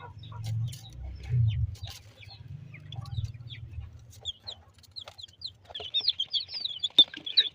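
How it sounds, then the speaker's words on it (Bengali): Day-old, newly hatched chicken chicks give thin, high peeps that grow more frequent toward the end, after a low rumbling start; the sounds are faint and close by. "এইখানে 10টি আছে মুরগির বাচ্চা"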